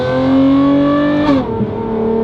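A Lamborghini Revuelto engine with a Valvetronic Designs race exhaust howls loudly with a rising musical whine toward redline, then drops in pitch briefly as it shifts before carrying on.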